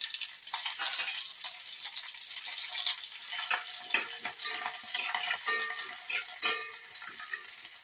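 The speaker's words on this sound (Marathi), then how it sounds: "आपण त्याच्यात जिरं, मोहरी टाकूया, हिरवी मिरची टाकूया, कढीपत्ता टाकू." Cumin, mustard seeds, green chilli and curry leaves sputter in hot oil, giving a bright, crackling sizzle full of rapid small pops. The sound is close and fairly quiet, with no voices.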